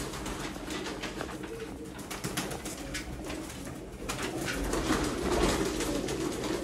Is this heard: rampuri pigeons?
yes